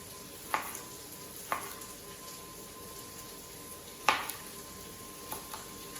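Potatoes fry quietly in a pan, a soft continuous sizzle broken by a few sharp utensil clicks and scrapes spaced a second or more apart.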